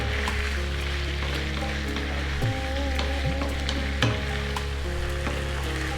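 Two cups of onions frying in a pot for Indian chicken curry, with a dense, even sizzle throughout and a few soft stirring knocks, close and steady, with a low hum beneath and no speech.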